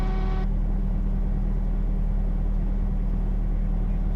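A Cessna 172 engine idles at 1,000 RPM, a steady, loud low rumble with a constant drone that continues evenly after a brief higher tone cuts off at the start.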